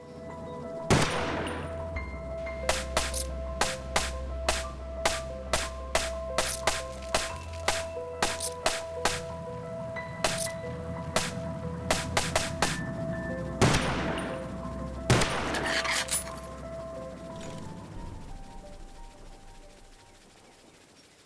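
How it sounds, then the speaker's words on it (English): Rapid gunfire in Call of Duty Black Ops 1 on the Hazard map, shooting golf balls: a steady run of sharp, evenly spaced shots, with louder bursts around the start and later on, then fading out. "On the Black Ops 1 map, Hazard, you can actually shoot the golf balls"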